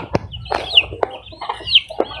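Chickens clucking in short, separate bursts, with a few higher squawky calls mixed in, fairly close and moderately loud.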